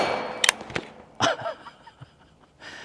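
A single sharp gunshot from a Riley Defense Krink rifle, a short-barrelled AK-pattern gun, cracks close by, followed by a faint distant ring off a steel target and a few small clicks and taps in a quiet outdoor range.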